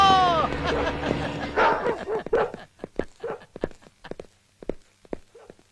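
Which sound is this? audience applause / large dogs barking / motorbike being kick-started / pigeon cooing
large dogs barking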